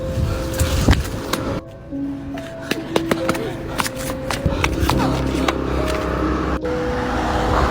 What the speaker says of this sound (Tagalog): May paparating na sasakyan!